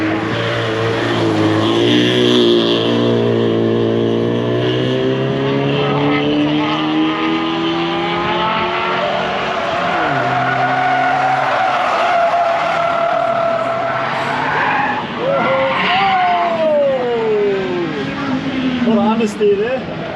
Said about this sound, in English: We've got the Honda XL coming around.